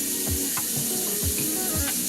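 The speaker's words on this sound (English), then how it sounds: "I'm going to fill this pot with water" Steady broadband rush of hot tap water running into a pot, loud and close, with faint clinks and knocks as the stream hits metal.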